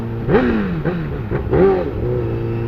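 A motorcycle engine revs in a few quick blips, each rising and falling sharply over a steady idle, loud and close.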